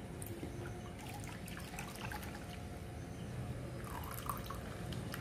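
Leftover milk poured into a kadhai (wok) to make paneer gives a steady, close trickling pour with light splashing that runs unbroken throughout.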